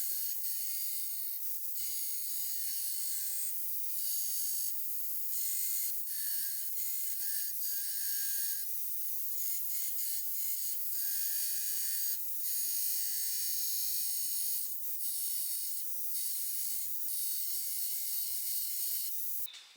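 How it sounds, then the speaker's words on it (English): A belt grinder shapes the profile of a stainless steel fillet knife blade, giving a steady, bright, high-pitched grinding hiss that runs without a break, with small dips where the pressure on the blade shifts. "But to the grinder we go."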